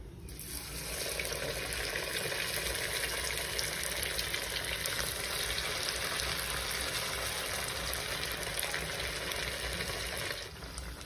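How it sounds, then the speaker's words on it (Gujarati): A Maggi noodle and poha snack deep-frying in hot oil gives off a steady, even sizzle and bubbling that holds for about ten seconds, fairly quiet and with no talking. "હવે આપણે આને તળી લઈશું। તળવા માટે મેં તેલ ગરમ થવા મૂકેલું છે।"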